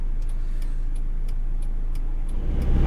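Interior of an Iveco Daily campervan driving along a busy road, a steady low engine and road drone with faint regular ticking like an indicator, engine noise swelling slightly at the end, no speech.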